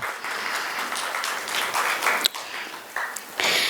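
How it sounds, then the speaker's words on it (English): Audience at a school educators' panel clapping steadily for the moderator, a bright continuous patter of many hands with a few sharper claps near the end. "Can we have a round of applause for ma'am,"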